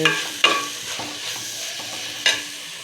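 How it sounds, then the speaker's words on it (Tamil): Steady sizzling of tomato, onion and vegetables frying in hot oil, with a few sharp scrapes of a spoon stirring the pan. "அந்த எண்ணெயோடு சேர்த்து இந்த தக்காளி வெங்காயம் சுக்குட்டிக்காய் எல்லாம் வேகும்போது"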